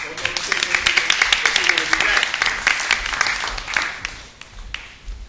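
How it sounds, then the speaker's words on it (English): Applause from an audience at a neighborhood action team meeting, a steady patter of many hands clapping for several seconds before tapering off near the end. "So give yourselves a round of applause for that."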